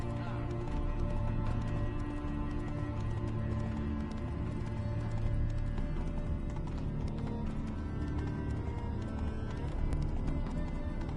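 A horse trots in the video game The Witcher 3: Wild Hunt. Steady, rhythmic hoof clip-clops continue throughout over a dense ambient game backdrop.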